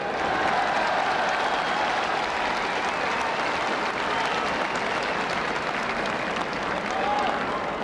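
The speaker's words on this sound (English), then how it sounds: "I feel that both teams, Cork and Galway, really deserve a tremendous round of applause here today" Crowd applause for the Cork and Galway teams at the 1990 All-Ireland Senior Hurling Final, a broad continuous roar of clapping from a large stadium crowd, even and sustained throughout.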